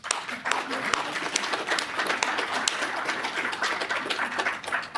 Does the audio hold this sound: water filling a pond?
no